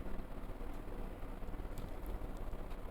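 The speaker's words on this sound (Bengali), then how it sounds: "ভিজা মুগ ডালটাকে আমি ভেজে নিচ্ছি লাল করে।" Soaked mung dal dry-fries in a pan without oil until reddish, making a faint, dense, even crackle and patter throughout, with no one speaking.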